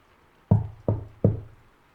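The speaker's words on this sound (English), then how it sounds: "I heard the knock." Three firm knocks on a door, evenly spaced and close by, each with a short resonant thud, then quiet.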